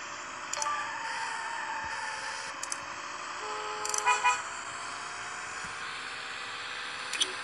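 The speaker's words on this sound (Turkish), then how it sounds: "onlar bize korna çalıyor, biz de onu çalıyoruz" In the Dr. Driving 2 mobile driving game, short car horn toots sound several times over a steady engine drone, with a longer cluster of honks near the middle.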